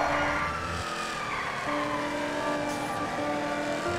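Car engine in GTA V during a police chase: a continuous loud engine drone with shifting pitch runs the whole way, steady and near, with a faint higher whine layered over it.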